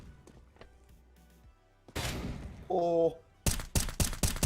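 Rapid bursts of gunfire in Counter-Strike: Global Offensive, with a cluster of loud shots late on and scattered game noises earlier; a player's brief exclamation is heard.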